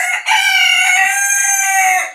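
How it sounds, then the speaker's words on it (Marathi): A rooster gives one loud, close crow lasting about two seconds, a strong sustained call that fades away at the end, with no other sound around it. "आता माझ्यासमोर बघा, हा कोंबडा जेमतेम 5 ते 6 वेळा आरवलेला आहे।"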